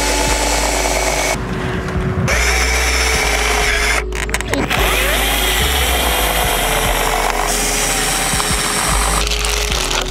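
A cordless screwdriver drives self-drilling screws into a Renault Clio 4 RS, making a loud, steady whirring drone that stops briefly twice and then resumes without talk.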